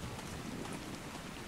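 Rain falling in the video game ARK: Survival Evolved, a steady dense hiss of downpour with a low rumbling undertone, continuous and fairly faint with no voices.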